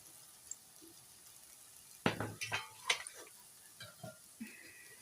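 Potato French fries dropped into hot oil, a faint sizzle rising from near silence with a cluster of clattering pieces and stirring taps, then scattered softer splashes and clinks.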